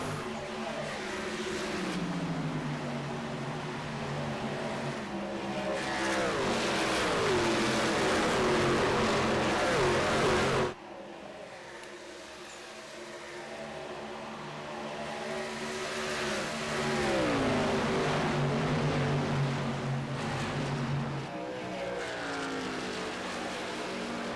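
Stock cars racing at Atlanta roar around the track in a loud, continuous blur of engine noise, with rising and falling pitch as cars pass and a sudden shift in the sound midway.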